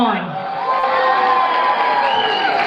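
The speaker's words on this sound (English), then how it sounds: "One more time, big round of applause for On." A crowd at an Eid al-Adha celebration cheers and whoops for a performer, a loud, continuous wash of excited voices with high shouts rising over it throughout.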